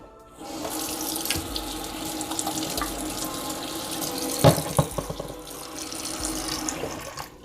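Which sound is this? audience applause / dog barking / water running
water running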